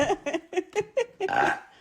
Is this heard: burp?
yes